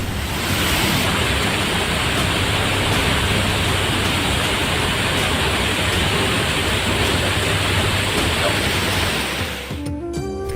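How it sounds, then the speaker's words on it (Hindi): A waterfall at Mahadev Khoh in flood after heavy rain roars as a loud, continuous broadband rush of water that holds steady throughout and fades slightly at the very end. "किसी ने ये उम्मीद नहीं की थी कि प्राकृतिक सौंदर्य का प्रतीक ये झरना देखते ही देखते इतना रौद्र रूप धारण कर लेगा।"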